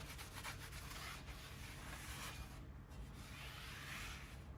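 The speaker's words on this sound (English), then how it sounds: "If you put any handprints on the rotor, you want to go ahead and clean that grease off of there best you can." A rag is rubbed steadily across a brake rotor on a 2006-2012 Ford Fusion to wipe off grease, giving a faint, continuous scrubbing swish in quiet surroundings.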